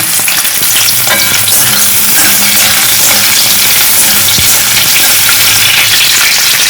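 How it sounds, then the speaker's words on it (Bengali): Onion, ginger and garlic fry in white oil in a wok, giving a loud, steady broadband sizzle throughout with occasional stirring scrapes and clinks and no talking. "এবার কড়াইতে হোয়াইট অয়েলে একে একে পেঁয়াজ আর একটুখানি আদা রসুন এগুলোকে একটুখানি ফ্রাই করে নেবো"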